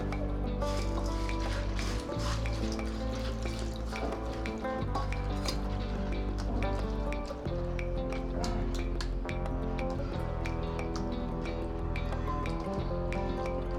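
Flattened rice (poha) is rinsed in water in a bowl, with continuous splashing, swishing and clinking against the dish, loud and close for the whole stretch.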